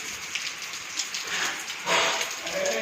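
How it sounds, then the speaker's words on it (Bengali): Continuous rain falling, a steady hiss of drops on surfaces with a brief heavier surge near the end, moderately loud and with no voices. "এই যে অনর্গল বৃষ্টি হয়েই যাচ্ছে।"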